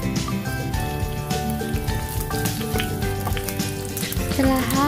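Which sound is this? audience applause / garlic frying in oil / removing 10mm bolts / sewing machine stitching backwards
garlic frying in oil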